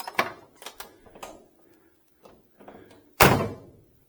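Doors of a 1966 Chevrolet Impala SS swing shut in a run of solid thunks, several lighter closes early on and one heavy, loud slam near the end, with quiet gaps between them.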